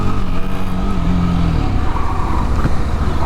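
A Yezdi Scrambler motorcycle pulls away hard. The engine drones loud and close, with a steady rising growl over wind noise for a few seconds.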